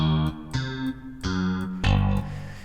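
A bass lead channel from the OMNIBass library, played with chorus and reverb, sounds four sustained, distorted notes one after another, each bright and swirling, with a reverb tail joining them together. Nobody speaks.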